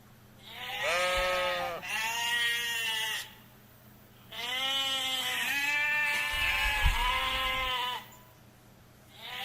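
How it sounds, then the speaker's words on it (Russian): A domestic sheep bleats in a village, giving three long, wavering calls separated by short pauses, close and clear with no other sounds. "Домашняя овца."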